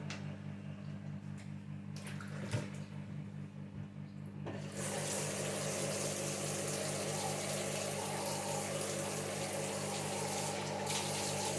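Warm water gushes steadily from a tap into a sink while goat meat is being washed, a close, continuous rushing that grows fuller after a few seconds of fainter trickling and handling.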